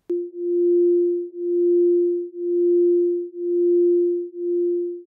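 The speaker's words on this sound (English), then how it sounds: "The beating occurs when I play both simultaneously." Two steady sine tones at 349 Hz and 350 Hz sound together, their combined level swelling and fading about once per second in a smooth, regular beating pulse that runs without any voice.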